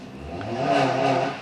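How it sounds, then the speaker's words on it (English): A Pontiac G6 car engine revs loudly outside, a steady, swelling mid-pitched roar that builds and holds through the short stretch with no talk over it. "I'm selling a car outside, and the guys are just revving it."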